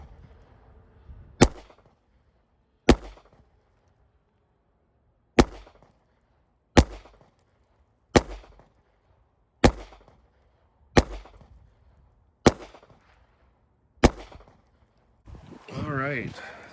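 Nine sharp pistol shots from a Glock 19 clone ring out at an outdoor range, evenly spaced about every second and a half, each a loud crack with a short decay, followed by a brief burst of nearby talk.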